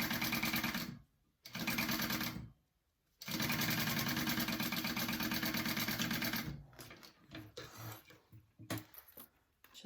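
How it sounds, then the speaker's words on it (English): A sewing machine stitches a zipper onto fabric at an eighth-inch seam allowance for a wristlet: steady, close, loud mechanical whirring in two short runs, then a longer burst that slows into uneven intermittent stitching and clicks. "I am going to sew that on first at an 1/8 inch"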